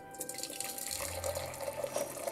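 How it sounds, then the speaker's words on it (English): Boiled water poured from a kettle into a teapot, a soft continuous splashing trickle with faint drips, close and fairly quiet, no talking. "After, of course, boiling the water, we put it in the teapot."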